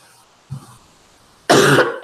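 A person with a lingering cough gives a sharp, close cough followed by a brief second burst, after a small throat sound and quiet pauses.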